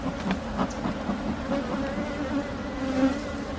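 A steady, dense buzzing of many honey bees at a hive, close and continuous, with no voices.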